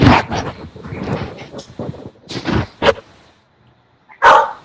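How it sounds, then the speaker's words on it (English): A dog barks loudly and close, a run of sharp barks and yips over a few seconds, then a pause and one final bark, with no talk over it. "That's Robert's dog."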